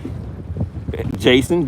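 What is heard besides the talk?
wind blowing on the microphone outdoors while bass fishing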